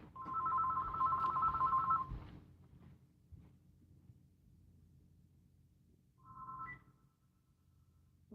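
A home telephone rings in a quiet sewing room, one long two-tone ring burst lasting about two seconds followed by a shorter ring several seconds later, clear and fairly near with no talking.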